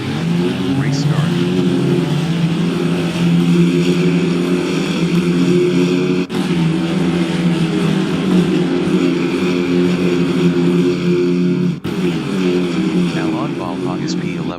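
Loud, continuous roar of a pack of VW Polo race cars at the start of an SMSA Polo Challenge race, engines droning steadily at high revs for the whole stretch with no pauses, heavy low rumble throughout.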